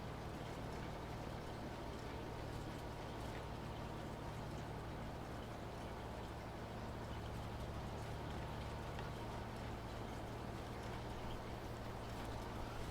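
A tractor running in the farming game Farming Simulator 22 gives a steady, low engine drone with a constant hum, unbroken and fairly quiet throughout.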